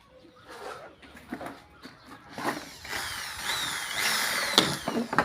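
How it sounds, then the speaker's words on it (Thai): A small cordless hand drill whirs in short bursts, its motor pitch rising as it spins, with scattered clicks and handling noise. "สว่านมือถือน่ะ ตัวมันก็ค่อยหมุนน่ะหน่อย"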